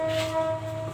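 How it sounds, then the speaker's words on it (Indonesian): A train passing nearby, with a steady horn-like tone held for about a second over low rumbling, loud and close, no talk. "Ada kereta guys, tunggu bentar ya."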